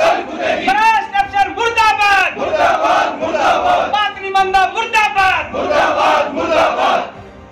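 Protesting electricity-office employees at a sit-in chant slogans in loud bursts, a crowd of voices shouting in unison, pausing briefly between chants.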